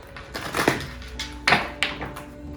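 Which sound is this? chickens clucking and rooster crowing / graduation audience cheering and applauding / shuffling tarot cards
shuffling tarot cards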